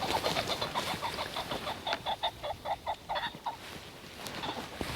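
Rooster pheasants flush in a hunting field, giving a quick burst of harsh, repeated cackling calls at moderate distance over faint outdoor background, with no talk.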